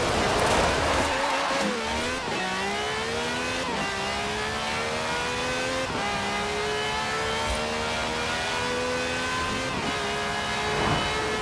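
An Audi R8 V10 Plus in Forza Horizon 4 revs and climbs through repeated gear changes, each run rising in pitch before a brief dip. The engine is loud, close and unbroken, with a tire squeal near the start.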